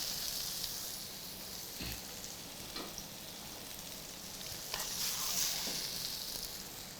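Marinated soya chaap sizzles steadily in a pan, a soft continuous frying hiss with a few faint pops and no talking.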